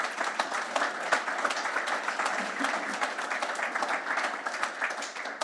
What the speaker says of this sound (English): Can you give me a big, warm round of applause for Alex as she comes to the stage?